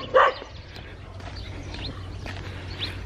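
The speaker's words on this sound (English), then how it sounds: "That's all the dogs are probably wanting to eat me alive." A dog in a Thai village gives one sharp, fairly close bark at the start, followed by quiet village background with faint distant sounds.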